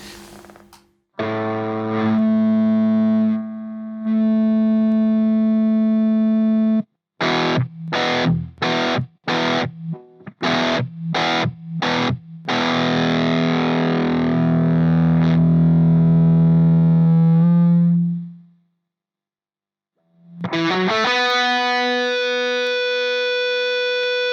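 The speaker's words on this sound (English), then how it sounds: "the distortion on this pedal sounds okay by itself as well" High-gain guitar distortion from a feedbacker-style pedal with a noise gate: sustained saturated chords, a burst of rapid choppy stabs, then a long swelling held note that cuts off, followed by another distorted strum, with no voices.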